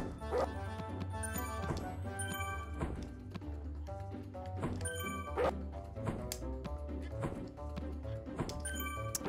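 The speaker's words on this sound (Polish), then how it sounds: "na pieska trzeba uważać, bo piesek jest groźny i piesek ma bardzo ostre kły" A dog barks and yips over busy game music in the Mr. Bean PS2 video game garden level, the short barks scattered through the loop at moderate level.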